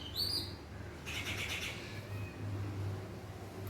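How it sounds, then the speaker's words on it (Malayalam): Birds chirp in a few faint, quick bursts of high tweets, clustered early and then fading, over a low ambient hum. "കിളികൾ"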